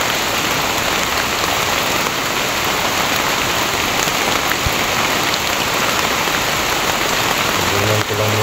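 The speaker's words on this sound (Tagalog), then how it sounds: "Lakas ng ulan bro." Heavy rain pours down in a dense, continuous roar on surrounding surfaces, loud and unbroken, with a faint low rumble briefly appearing near the end.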